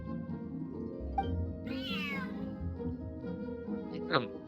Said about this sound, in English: Whoa, this cat is way bigger than the others.